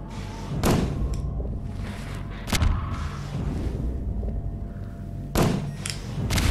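Grenade blasts in Half-Life 2 VR land as three heavy, booming thuds spaced a few seconds apart over a low rumbling background, each a sharp hit with a brief decaying tail.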